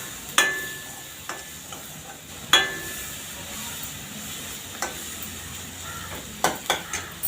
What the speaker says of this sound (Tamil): அப்படியே அந்த எண்ணெயிலே வதக்கி